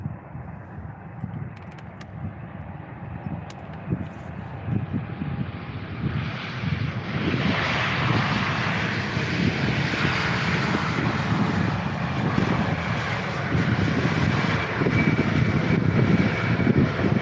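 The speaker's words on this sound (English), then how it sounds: "let's go for the EasyJet A320 now landing. This one coming in from Glasgow. An A320 with sharklets." An EasyJet Airbus A320neo with sharklets landing at Faro airport, a broad jet roar that swells steadily and stays loud and close for the whole stretch, with no speech.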